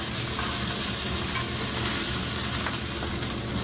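Bratwurst sizzling in a hot pan, a close, steady hiss and crackle of fat that holds at an even level throughout.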